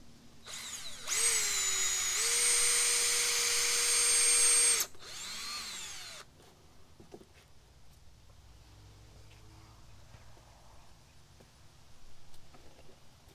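Power drill driving screws into a wooden solar heater box for melting wax, one loud sustained whine of about four seconds with a pitch shift, then a brief lower run and quiet handling noises.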